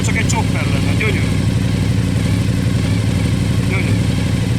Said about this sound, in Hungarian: Alapjáraton is, mintha csak egy chopper lenne,